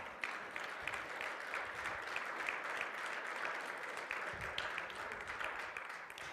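A church congregation applauds during worship, a continuous, evenly sustained sheet of clapping from many hands, heard fairly quietly and at a distance without any voice rising above it.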